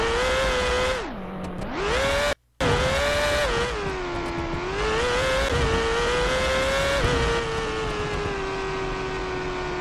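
A Formula 1 car in BeamNG.drive accelerates hard with a loud, steady high-pitched engine whine that dips briefly after a gear change, cuts out for a split second, then climbs and holds at high revs.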